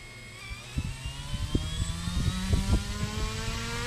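Brushless drone motor with propeller running on a 6S battery at about 12,000 RPM on a test bench, giving a steady, fairly loud whirring drone with harmonic tones and a few clicks, no talking.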